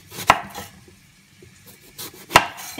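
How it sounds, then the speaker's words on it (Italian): A knife chops through the ends of an aubergine on a cutting board, two sharp, close cuts about two seconds apart over quiet kitchen background. "Pulire la melanzana togliendo le estremità"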